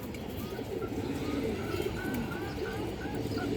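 Many pigeons coo at once in a busy, continuous murmur, with a few higher chirps scattered through it.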